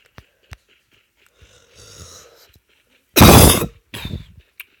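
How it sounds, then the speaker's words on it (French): A person coughs once in a harsh, loud burst followed by a shorter second cough, close to the mic, amid faint rustling and quiet background sounds during a mobile shooter game session. "Pardon si je tousse, hein, comme hier,"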